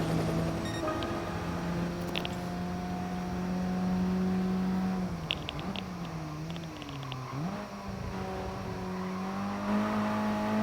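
Race cars in Gran Turismo Sport whine along the track, a steady close engine drone with pitch dips and climbs as the car brakes into corners and accelerates out, with brief faint clicks.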